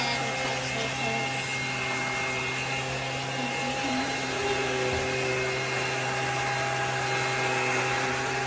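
A Bissell PowerClean vacuum cleaner with a 200 W motor runs steadily at close range, a constant whirring hum with a high whine that holds throughout without pauses.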